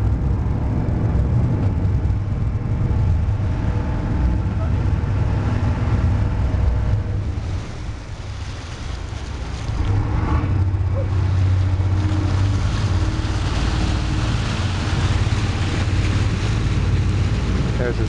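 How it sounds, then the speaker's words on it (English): A car ferry's engines slow down and then rev as it pulls into the slip on the run from Bellevue to Oxford: a steady low rumble with wind noise that dips briefly midway and then builds again. "You'll hear the rear engine slow down"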